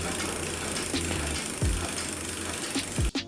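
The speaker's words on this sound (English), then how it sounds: "That noise you can hear there is where the caliper isn't quite central to the disc." A bicycle disc brake caliper sits slightly off centre and rubs against the spinning disc, giving a faint, repeated scraping swish over a steady whir and broadband noise, with no talking.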